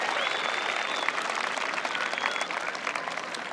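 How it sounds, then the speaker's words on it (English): A large audience at a high school graduation ceremony applauds teachers, a dense, sustained wash of clapping with a few faint whistles, even in loudness throughout. "let's give them a round of applause"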